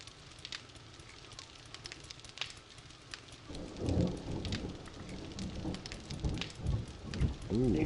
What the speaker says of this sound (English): Yeah, man, that'd be the thunder